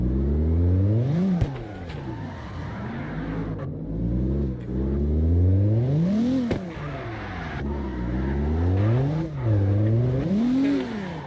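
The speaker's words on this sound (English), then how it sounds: "I like the sound of the exhaust." A car engine revs repeatedly in the racing game CarX Drift Racing Online, pitch climbing and dropping in rising sweeps with throaty exhaust, looping through several gear-like cycles without pause.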